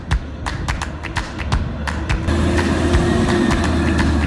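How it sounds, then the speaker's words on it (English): A Waste Management garbage truck rumbles past nearby with a steady low engine drone, swelling louder midway, while sharp repeated thumps and taps ring out over it. "Here comes the garbage truck."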